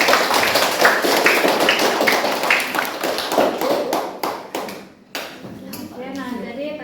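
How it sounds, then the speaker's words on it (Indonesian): Applause for a small student group after they finish a practical demonstration of making a bed for the elderly, dense rapid clapping from a room of people that fades out near the end, with some voices after. "kita kasih aplaus dulu untuk kelompok"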